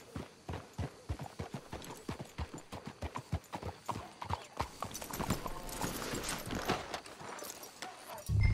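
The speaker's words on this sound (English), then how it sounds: "Let's hitch the horses up ahead." Horses clip-clop along in Red Dead Redemption 2, with sharp rhythmic hoofbeats at a walking pace, close and distinct. They blur into a busier shuffle as they slow toward the end, and a faint voice comes in briefly.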